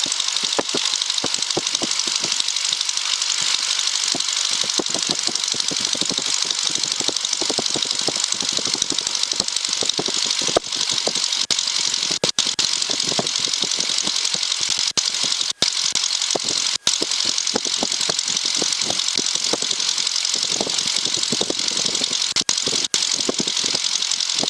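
A small airplane's piston engine runs steadily and loud throughout while taxiing, a continuous close drone with a rough, knocking texture and occasional clicks.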